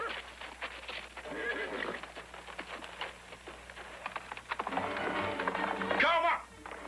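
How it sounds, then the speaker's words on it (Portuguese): A horse neighs and whinnies amid clip-clopping hooves in a dubbed magic horror film, loud and close, with a sharp whinny near the end; voices speak over parts of it. "esse é um cavalo e tanto"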